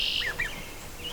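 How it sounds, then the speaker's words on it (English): Red-winged blackbirds sing in a garden, giving a few quick, faint chirps early on over a steady outdoor background hiss. "And the red-winged blackbirds are singing."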